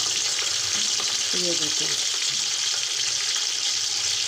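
Large onions frying in the leftover oil from chicken for a pulao give a steady close sizzle with a few stirring clinks, while a voice speaks briefly.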